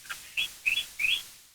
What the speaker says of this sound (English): Here's some sweet birds.